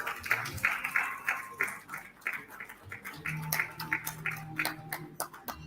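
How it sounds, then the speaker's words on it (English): Scattered clapping from an audience at a supply chain conference, sparse and uneven individual claps with background tones and low hum, fairly quiet. "please give him a round of applause"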